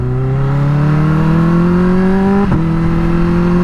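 A Kawasaki Ninja H2 motorcycle with an unlocked tune accelerating hard, its loud engine note climbing steadily in pitch, then dipping briefly at a gear shift before pulling on.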